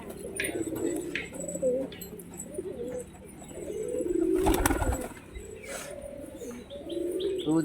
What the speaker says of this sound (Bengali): এটা একটা মাদি পায়রা